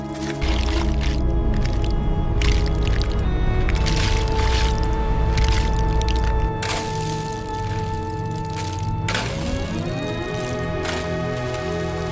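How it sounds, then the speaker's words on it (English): Scallops pour into the hold of a large deep-sea scallop fishing boat: a loud, wet, continuous rushing pour for several seconds, then lighter clattering and steady engine hum. "seeing them pour the scallops into the hold"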